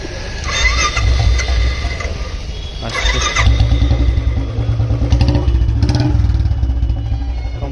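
A Royal Enfield Classic 350 single-cylinder motorcycle with an L-bend pipe and long Punjab silencer thumps loudly nearby with a heavy, deep exhaust beat, revving in a few short bursts between steady idling.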